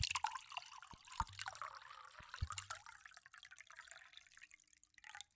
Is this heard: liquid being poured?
yes